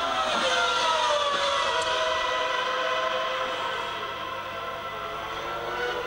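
Onboard Morbidelli's 1995 Formula 1 car at the San Marino Grand Prix, a loud, sustained high-pitched engine whine that holds steady and dips slightly midway, alone without talk.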